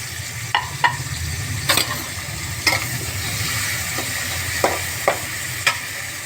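Tomato and onion frying in a pan give a steady crackling sizzle, with a low rumble beneath and several sharp utensil clicks and scrapes spaced irregularly, close by and without speech.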